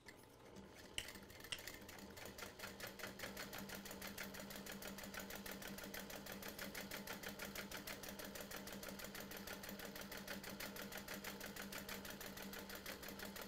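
A sewing machine stitches fabric for a portable gaming console case, its needle chattering in a fast, even mechanical rhythm that runs steadily and close for over ten seconds, with a faint bump near the start.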